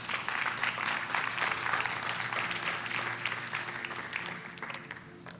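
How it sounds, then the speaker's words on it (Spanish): Congregation applauding at a Spanish-language church sermon: continuous clapping from a roomful of people, moderately distant and quiet, fading slightly toward the end. "Dale un fuerte aplauso a Dios"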